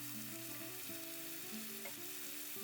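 Onions go into a pan of frying street-style noodles seasoned with salt and black pepper, a continuous close sizzle with faint tonal hum and small clicks, heard without speech.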